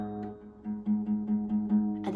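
The low string of a six-string acoustic guitar plucked repeatedly, a soft, deep tone sounding in a quick series of notes, close and quiet with no talking.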